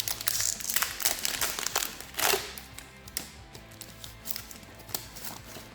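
Wrappers of Series 2 trading card packs crinkle and crackle up close, with irregular rustling bursts and small taps continuing throughout, no talking.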